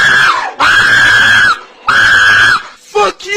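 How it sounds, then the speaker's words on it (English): A shrill, piercing human scream used as a meme sound effect, loud and close, delivered in three long sustained bursts with a short squeal at the end. "Stop screaming!"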